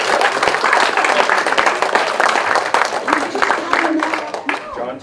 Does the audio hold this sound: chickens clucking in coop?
no